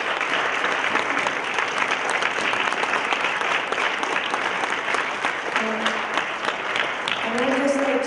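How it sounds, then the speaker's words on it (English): A crowd at an Occupy Prison event on immigration, detention and incarceration gives a steady round of applause, dense and sustained throughout, with a voice starting to speak near the end. "So give them a round of applause."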